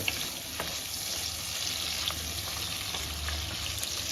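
Small bommidi fish frying in hot oil for a Rayalaseema-style brinjal and fish curry, giving a steady, dense crackling sizzle that continues without a break, with a few sharper pops and spits.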